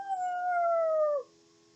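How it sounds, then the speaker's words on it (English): A dog's long, mournful howl that slides slowly downward in pitch, close and loud, holding for about a second before cutting off into near silence. "Heard Fang whimpering and howling."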